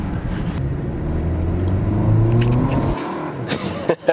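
Porsche accelerating up a steep hill, its engine rising in a loud, close, sustained revving surge for about three seconds before cutting off abruptly into quieter road noise and brief thumps.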